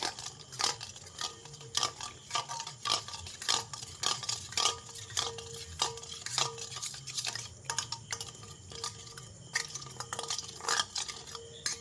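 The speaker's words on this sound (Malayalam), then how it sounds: "അപ്പോൾ ഞാനത് നന്നായിട്ട് തന്നെ ഇളക്കി കൊടുക്കുന്നുണ്ട് കേട്ടോ കട്ടൊക്കെ നന്നായിട്ട് തന്നെ" A spoon stirring gram flour batter in a bowl to break up lumps, making continuous close scraping and clinking strokes in an even rhythm without any talk.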